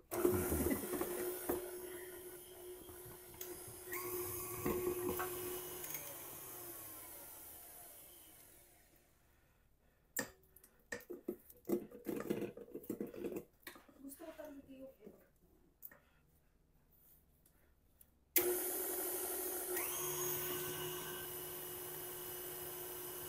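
A stand mixer with a paddle attachment creams butter for a mini fruit cake, its steady motor whir filling the opening and closing seconds, with quieter clattering and knocking in between.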